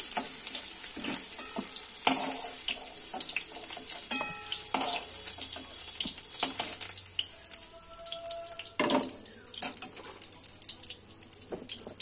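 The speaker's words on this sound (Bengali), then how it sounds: "ফুলকপিটা একটু লাল লাল করে ভেজে নেব।" Cauliflower fries in oil with a continuous crackling sizzle, punctuated by occasional clinks of a utensil moving the pieces, close and steady.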